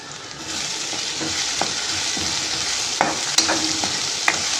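Food is sautéed in a pan ahead of the ginger garlic paste, giving a loud, close sizzle broken by sharp stirring scrapes and clinks of a spoon.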